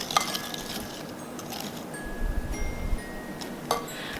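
Chocolate brownie batter stirred in a bowl after an egg is added, with light clinks of a utensil against the bowl and soft wet stirring, close and fairly quiet.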